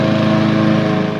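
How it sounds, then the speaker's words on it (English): A lawn mower runs near an RV park campground, its engine a steady, fairly loud droning hum that holds unbroken for the whole moment with no voices over it. "There's a lawnmower."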